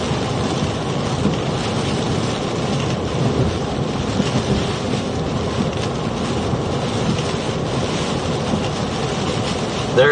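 Hurricane Helene's eyewall at landfall brings a loud, unbroken roar of storm wind and driving rain with no voices, though distinct thunderclaps are hard to pick out.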